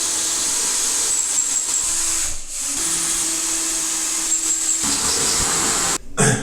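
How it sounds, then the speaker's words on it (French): A power drill bores holes into a bathroom wall to hang a mirror above a vanity basin, a steady close whine running almost continuously with a brief dip midway and a short stop near the end. "je vais faire les trous pour le miroir au-dessus"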